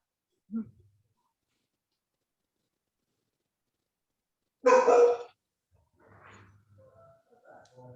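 A dog barks in the distance: one faint short yip, then after a pause a louder, longer bark, followed by quieter low murmurs and scattered faint noises.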